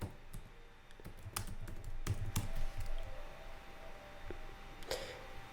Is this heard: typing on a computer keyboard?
yes